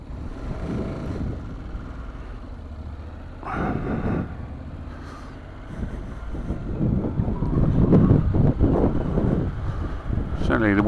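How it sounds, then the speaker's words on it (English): Gusty wind buffets the microphone at an exposed road corner on Madeira during a motorcycle tour, a loud rumbling roar that swells and dips in surges, with someone speaking intermittently through it. "Certainly the wind's picked up here"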